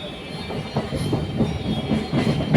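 Rhythmic clickety-clack of a moving train heard from inside, a steady rumble with repeated wheel thumps.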